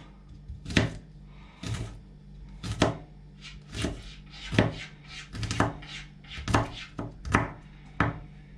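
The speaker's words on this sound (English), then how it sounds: "Now watch me mince it." Knife mincing food on a cutting board for Hungarian goulash, about a dozen sharp, close chops in an uneven rhythm, with a low hum underneath.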